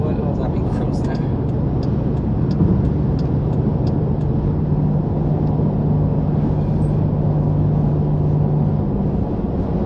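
Steady interior road noise from a car cruising on a highway, a loud, constant low rumble with a faint steady hum and no break.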